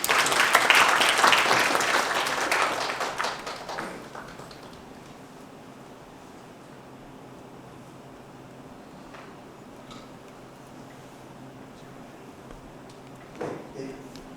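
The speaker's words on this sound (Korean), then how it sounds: "일단 박수라도" Audience applause after a talk at a university security colloquium, with loud clapping from many hands that thins out and fades over about four seconds, followed by a quiet room with a few small knocks.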